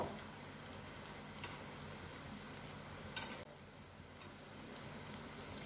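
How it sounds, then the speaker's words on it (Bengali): Quiet, continuous sizzle of fritters frying in oil, a soft crackling hiss with occasional faint ticks and one louder spatter. "এবার এই পিঠটাও আমি ভালো করে ভেজে নেব।"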